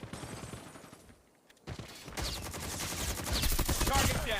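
Shooting in the Call of Duty video game: a dense, continuous clatter of rapid gunfire and battle noise, briefly dipping quiet and then building louder to the end.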